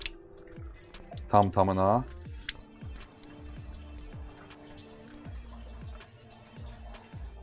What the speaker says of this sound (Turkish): Bunun da suyunu yavaş yavaş süzürəm.